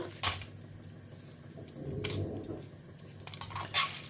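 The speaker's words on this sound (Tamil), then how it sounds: "இதை கொஞ்சம் செவக்க வர வரைக்கும் வறுத்துக்கிறேன்" Coconut, curry leaves and other ingredients being dry-roasted in a pan for Karnataka-style kadamba rice, with metal spoon scrapes and clinks against the pan, moderately close with scattered sharper hits.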